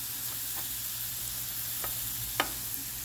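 Mushrooms and fajita vegetables sizzle steadily in a hot pan while being stirred, with a constant frying hiss and a few soft scrapes and clicks of the utensil.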